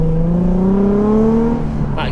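A sports car engine and exhaust while driving in traffic behind a van, with a steady droning note whose pitch climbs slowly before a brief dip near the end.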